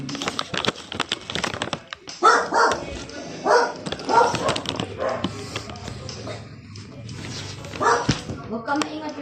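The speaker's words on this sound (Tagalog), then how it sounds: "Maingay aso namin." A dog barks and yips in short bursts close by, mixed in with people talking.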